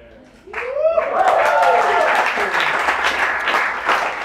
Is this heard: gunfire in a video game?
no